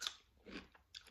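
Fresh cucumber with seasoning salt is bitten and chewed up close, giving a few sharp wet crunches separated by short pauses, quiet and with no talk.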